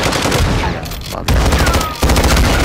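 A turret machine gun fires in a video game on Ashika Island, loud and close, in dense rapid bursts with a short break between volleys.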